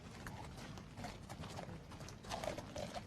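Horse hooves trot on a hard surface during the horse inspection at the Badminton Horse Trials, making a quiet, rhythmic clip-clop amid faint outdoor crowd ambience.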